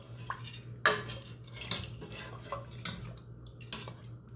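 A pot of beef paya, left to cook overnight in its own steam, is opened with several clinks and scrapes of metal lid and utensils against the pot, close and moderately loud.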